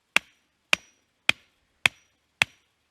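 A metal hammer drives a wooden fence stake into the ground, striking six sharp, evenly spaced blows about half a second apart, each a crisp crack with a short ring, close and alone.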